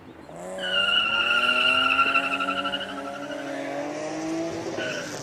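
BMW E30 M3 with its four-cylinder engine, racing at a Cape Town hill climb: a loud, high engine note climbing through the revs close by, then easing and fading slightly as the car pulls away.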